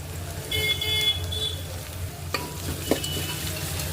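Chopped onions frying in a pan for poha upma, a steady close sizzle with stirring scrapes and a couple of sharp knocks, a faint car horn sounding outside early on.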